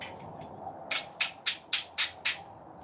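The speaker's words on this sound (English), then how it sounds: "There it is, there's my chipping hammer." A chipping hammer knocks spatter off a steel weld in six sharp, evenly spaced metallic taps, close and crisp against a quiet background.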